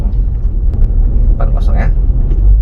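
Toyota Land Cruiser Prado TRJ150 engine on kick-down acceleration, a steady loud low rumble heard from inside the cabin, with faint brief noises riding over it.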